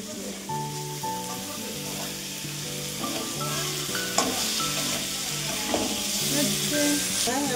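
Paneer is stirred and sautéed in a pan for a festive home meal, with a steady close sizzle and scraping spatula strokes throughout, and background music playing underneath.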